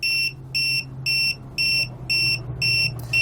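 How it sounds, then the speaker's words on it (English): An RV tire pressure monitoring system sounds its low-pressure alarm in a 2016 Winnebago Vista motorhome: seven evenly spaced, shrill electronic beeps in a steady on-off rhythm, loud and close, with a faint hum underneath. "The alarm should sound because it's lower than when we have it"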